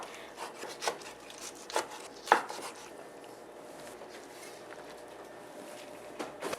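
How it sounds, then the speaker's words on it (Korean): Knife chopping boiled napa cabbage into bite-size pieces on a cutting board, a few soft irregular taps and scrapes up close, then quieter with faint rubbing. "먹기 좋은 크기로 이렇게 썰어주면 됩니다"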